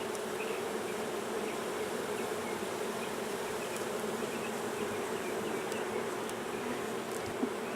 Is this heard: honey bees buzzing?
yes